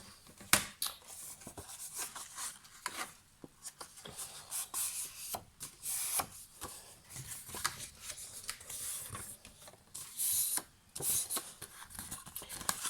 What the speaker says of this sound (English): I need to score at 1 centimetre on each of the longest sides, like so.